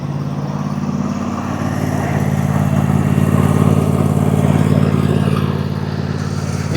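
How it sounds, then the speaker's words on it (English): A new lawn tractor pulling a trailer runs with a steady, loud mid-pitched engine drone that swells slightly as it passes close by, then holds even to the end. "here comes Gretchen with the new lawn tractor"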